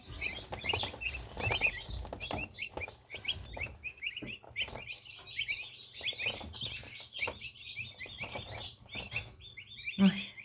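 Many small Big-6 broiler chicks peep and chirp continuously at close range after incubation, their high calls overlapping in a busy, unbroken chorus.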